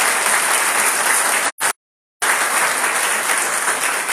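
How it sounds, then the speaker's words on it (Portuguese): Church congregation applauding during a service, a dense, loud, steady wash of many hands clapping, cut by a brief silent gap midway before resuming at full strength. "Aplauda o Senhor, em nome de Jesus."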